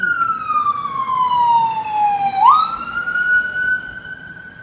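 An ambulance siren at night, heard from a balcony, wails steadily at a distance. Its pitch slides down, then jumps back up and holds, over faint background street noise.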